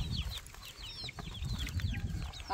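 Farm chicks peep in high, quick chirps over low clucking from fowl, with steady rustling close by as the birds are set loose.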